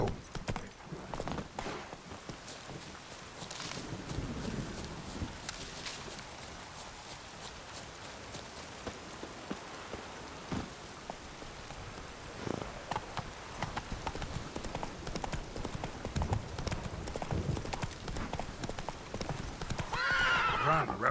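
Horse hooves clip-clopping at a steady gallop in The Witcher 3: Wild Hunt, with whinnies and rustling game ambience running throughout at moderate loudness, and a voice speaking briefly.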